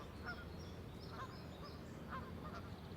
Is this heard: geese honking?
yes